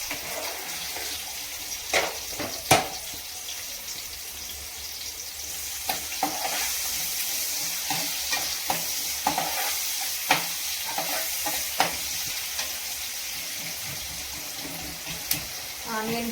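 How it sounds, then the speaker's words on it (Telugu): Onions fry with cumin and mustard seeds in a hot pan, a continuous sizzle broken by sharp spoon-scraping clicks as they are stirred, near and moderately loud. "ఆనియన్ కొంచెం ఫ్రై అవుతుంటే"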